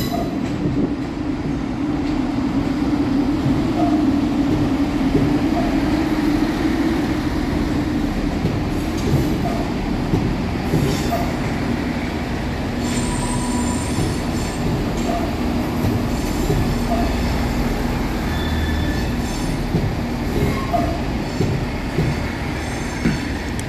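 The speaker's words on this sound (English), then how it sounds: "Next train out to the tunnel is 158825 and 158823, working the 1336 Transport for Wales service from Holyhead to Birmingham International" Two Transport for Wales Class 158 diesel units work through Birmingham New Street station, giving a long, continuous rumble of engines and rolling wheels with rhythmic rail clatter and occasional squeals throughout.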